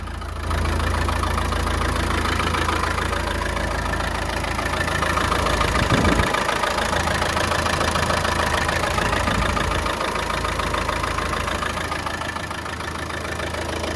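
The Maxion diesel engine of a Ford F1000 pickup truck idles steadily nearby, a continuous low rumble with a faint knocking texture and no voices.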